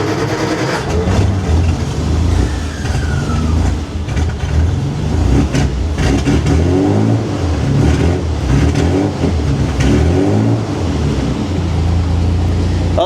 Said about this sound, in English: Let's see if it'll start up.